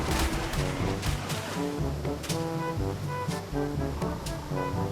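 A water fountain explosion skill is used in the ARK video game, giving a rushing, surf-like wash of water noise with repeated bursts, layered over tonal game music and with no voices.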